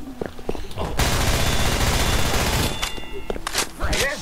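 A FAMAS rifle in a video game lets off a rapid, continuous burst lasting about two seconds, loud and close, with scattered game sounds and smaller shots before and after.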